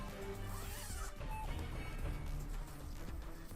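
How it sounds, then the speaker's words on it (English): The zipper of a Disguise Spider-Man deluxe costume suit gives a continuous close, scratchy zipping rasp that fills the whole moment at a steady level. "it has a zipper right here"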